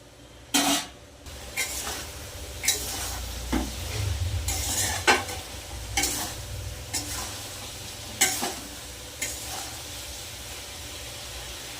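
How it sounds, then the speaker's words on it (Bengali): Spice paste (masala) fried and stirred in a pan for a potato, pointed gourd and cauliflower curry: a continuous soft hiss of frying broken by repeated sharp scrapes and knocks of the spoon, close and unaccompanied by speech. "মশলাটা ভালো করে কষিয়ে নেব"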